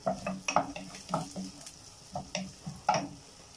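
Onion frying in a pan for an Egyptian okra stew, stirred with a utensil that scrapes and taps the pan in an uneven rhythm over a soft sizzle, close and fairly quiet.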